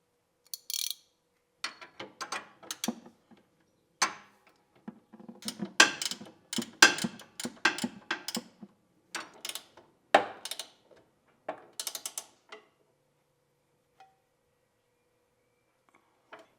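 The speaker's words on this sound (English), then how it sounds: "I do have to tighten up the bolts, so let's do that first." A hand ratchet tightens bolts on a BMW E30 rear suspension: close, crisp bursts of rapid clicking in irregular runs, with short pauses between strokes, fading to a few isolated clicks; no speech.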